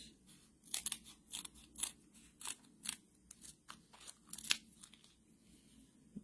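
Scissors snipping through foam sheets for handmade Christmas cards, a steady run of short crisp cuts with soft crunching, close and fairly quiet with no talk.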